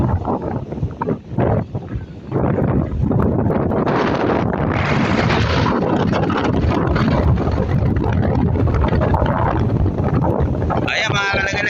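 Strong southwest monsoon wind left behind by Typhoon Inday, loud roaring gusts buffeting the microphone near water where a boat is, sustained and heavy after a few choppy bursts at the start.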